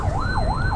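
An emergency vehicle siren wails close by in smooth rising and falling sweeps over steady road rumble.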